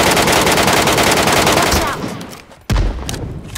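Rapid automatic gunfire in PUBG Metro Royale, a mobile battle royale game: dense, loud, continuous bursts for about two seconds. After a brief lull, a sharp, heavy shot breaks in and more firing follows.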